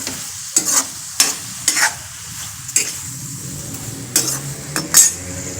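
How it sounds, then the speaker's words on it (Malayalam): Soybean chunks frying in a pan over a low flame hiss steadily while a spoon scrapes and clinks against the metal in repeated stirring strokes, loud and close. "സോയാബീനെ നമ്മൾ നന്നായിട്ടൊന്ന് ഇളക്കിയിട്ട് ചെറുതായിട്ടൊന്ന് അടച്ചു വെച്ച് ചെറുതീയിലൊന്ന് ഫ്രൈ ആക്കി എടുക്കാം."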